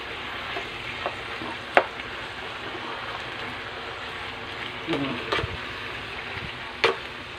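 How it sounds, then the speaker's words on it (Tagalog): Kangkong and red chili with a little water are stirred in a pan, a low steady sizzle with a few sharp spatula clinks and scrapes scattered through. "Haluin natin."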